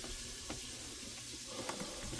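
Steady crackling sizzle of beaver meat frying in bacon grease, a continuous hiss with a few brief pops, close by and fairly quiet.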